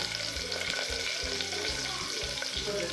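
Curry leaves and onion fry in hot oil with a constant crackling sizzle, close and moderately loud, with light stirring knocks throughout.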